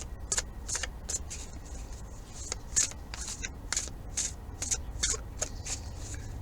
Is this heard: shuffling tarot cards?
yes